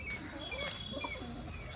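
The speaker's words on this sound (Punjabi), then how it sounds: "ਦੇਖੋ ਕਬੂਤਰ ਕਿੰਨਾ ਸੋਹਣਾ ਦੇਖੋ" A pigeon gives a soft, low coo close by, with faint chirps and light background noise around it.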